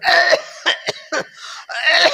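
A series of harsh, close coughs, several short bursts with brief pauses between them, loud and raspy.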